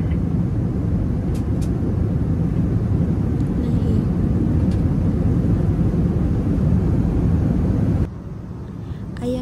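Airliner cabin in flight with a steady, loud broadband engine roar from a window seat, continuous for about eight seconds before dropping abruptly to a quieter hum.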